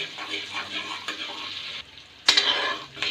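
Curry leaves and garlic frying in butter give a close, bright sizzle while a spoon stirs them, then the hiss drops briefly before a sudden louder burst of spitting and scraping.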